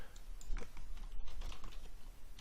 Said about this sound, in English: it'll live search as you type, so we can type in module